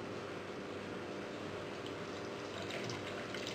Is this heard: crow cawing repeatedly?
no